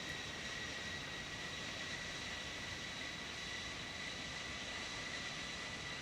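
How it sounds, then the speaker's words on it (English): Embraer E-190 jet engines in X-Plane 12, a steady broadband roar with a sustained high whine, loud and constant throughout with no talking. "let me see why we are not hearing so much of the engine sounds"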